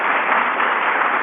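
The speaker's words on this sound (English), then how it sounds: "Give Gene a round of applause, for heaven's sake" Steady, even applause from the audience at a Federalist Society event, a continuous wash of clapping with no break, moderately loud and somewhat muffled.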